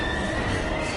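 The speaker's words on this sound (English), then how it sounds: "We've gotta get on that train, Ethan." A train rushes past in the video game Heavy Rain, a loud, close roar with a sustained high metallic wheel squeal across the whole moment.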